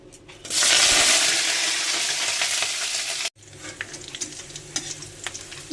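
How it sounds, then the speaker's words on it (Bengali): Green chillies and curry leaves hit hot oil in a kadai with a sudden loud sizzle that holds steady for a few seconds, then settles into quieter crackling and stirring scrapes. "কাঁচা লঙ্কা আর কারি পাতাটা তেলের মধ্যে দিয়ে দেবো।"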